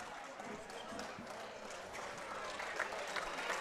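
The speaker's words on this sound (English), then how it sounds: "Nate Woods getting a nice little applause." A basketball crowd in a gym gives faint, steady applause for an injured player getting up, a soft, diffuse patter of clapping lasting a few seconds with some background crowd murmur.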